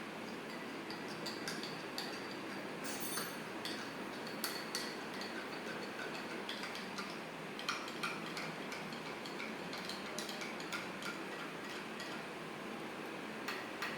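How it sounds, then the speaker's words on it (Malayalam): A spoon stirs a mixture in a small container, giving faint, steady ticking and light scraping clinks that repeat through the whole stretch with no talk. "ഇനി ഇത് നന്നായി ഇളക്കാം."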